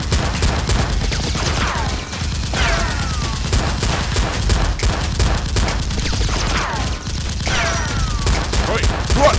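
Toy foam-dart blasters fire in rapid, overlapping volleys during an outdoor Nerf battle, with sharp clattering bursts throughout and occasional shouts from players.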